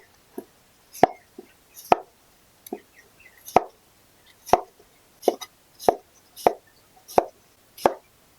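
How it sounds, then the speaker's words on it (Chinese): Washed rice tipped into a clay pot for a potato rice dish, landing as a series of about ten close, separate plops and patters spaced roughly half a second apart, with no talking. "先倒入淘好的米"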